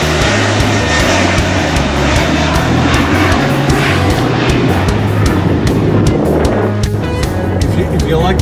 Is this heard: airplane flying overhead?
yes